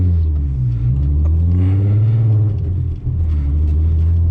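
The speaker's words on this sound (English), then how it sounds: "I'm always way too heavy on the throttle right there" A Volkswagen MK4 Jetta VR6 accelerates hard under heavy throttle, its engine note climbing loudly and steadily, with a brief dip near the end as a gear change interrupts the pull before it resumes.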